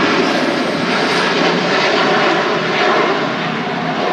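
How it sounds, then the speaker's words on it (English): Singapore Airlines Airbus A380 taking off at Manchester Airport, a loud, steady, continuous engine roar that fills the whole stretch without letting up. "Singapore A380, here we go. Blasting out."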